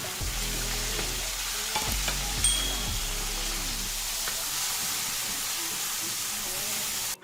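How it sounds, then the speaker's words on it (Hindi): Chicken sizzles and crackles steadily in a hot pan with light golden garlic, with a few scraping stirs near the start and a continuous hiss throughout. "चिकन फ्राई हो गया है"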